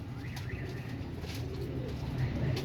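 Royal Teddy pigeons coo in low, soft, rolling calls that repeat steadily over a constant background hiss, with a few faint chirps mixed in.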